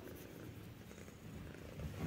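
A European domestic cat, an affectionate house cat, purrs close to the microphone in a soft, continuous low rumble that stays steady throughout, with no voices heard over it.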